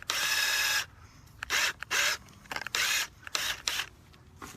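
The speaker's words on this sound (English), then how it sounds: "Now we're going to drill a 3/16-inch hole into this small riser here." A power drill bores a 3/16-inch hole into a small sump pump riser pipe, sounding in several loud, close whirring bursts of varying length separated by short pauses.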